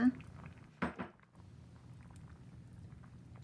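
Pork curry with pumpkin being stirred gently in a pot, with a couple of close clinks of a utensil against the pot early on, then a soft, continuous low rumble of cooking.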